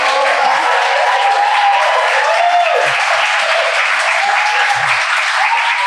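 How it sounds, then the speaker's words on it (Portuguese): A live studio audience bursts into loud, dense applause that holds steady throughout, close and enveloping, with a few faint voices underneath. "Gente, bate palma!"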